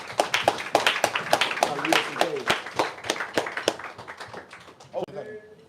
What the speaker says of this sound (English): Let's give Yahweh a round of applause.